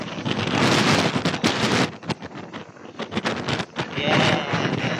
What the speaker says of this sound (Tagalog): Mahangin sa Mundia.